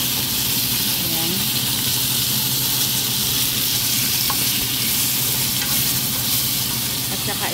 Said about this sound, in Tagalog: So, igisa ko naman ngayon yung squash.